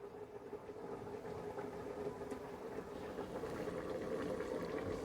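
Food simmers in a covered pan over a low gas flame, giving a steady, continuous bubbling hiss with a low background hum throughout, no voices.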